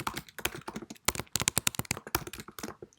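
Notes being typed on a computer keyboard, a steady run of close, crisp key clicks with brief pauses, no voices.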